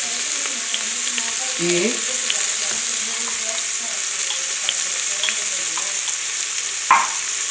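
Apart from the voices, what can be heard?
onion frying in a pan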